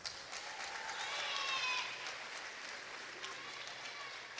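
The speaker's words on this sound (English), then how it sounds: "So they also deserve a big round of applause." Applause from a graduation ceremony audience at Riverside Academy West, a steady wash of clapping that swells slightly midway and holds at moderate loudness without talk over it.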